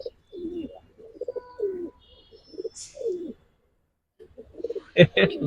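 Silver and silver-bezi pigeons coo in a series of low, throaty calls, close by, with a short gap before a louder burst of cooing at the end.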